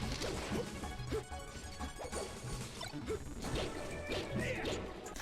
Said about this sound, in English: A little bit too many random F smashes.